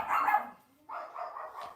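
Dogs bark in the background outdoors, two separate bark bursts at moderate distance, fairly faint and with no talk over them.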